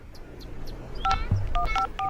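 A telephone being dialed: a quick series of keypad DTMF beeps, five or six tones in an uneven rhythm, close and clear over faint background noise.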